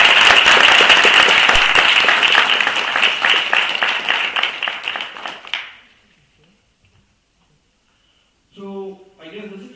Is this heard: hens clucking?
no